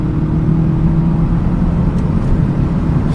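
Kia Proceed GT with its 205 hp engine accelerating, a steady loud drone with a low hum heard from inside the car, no voices.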